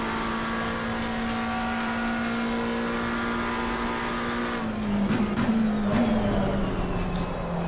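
A race car engine in Assetto Corsa Competizione holds a steady droning tone, then shifts and wavers with tire and track noise in the last few seconds, loud and continuous with no talk.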